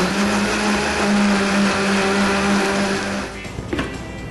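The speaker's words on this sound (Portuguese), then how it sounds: "Primeiro a gente vai bater o milho no liquidificador" A blender whirs loudly as it blends corn kernels with milk, a steady high-pitched motor drone that drops and changes near the end as the blending slows.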